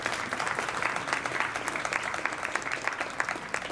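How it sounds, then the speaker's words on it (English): Wedding guests give a steady round of applause, dense clapping filling the room from start to finish with a few cheers mixed in. "All right, one more round of applause,"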